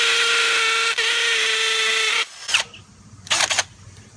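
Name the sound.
hammer drill hammer mechanism drilling concrete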